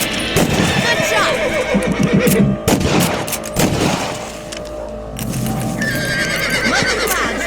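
Horses in the Red Dead Redemption video game, a loud neigh followed by clip-clopping hooves, mixed with gunshots, booms and game sounds while people talk.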